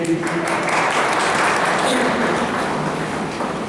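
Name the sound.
loud applause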